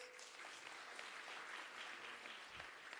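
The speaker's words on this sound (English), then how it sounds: "Can we give them another round of applause?" A round of applause from an audience at an Africa Day round table discussion, a steady dense wash of many hands clapping held evenly throughout at moderate distance.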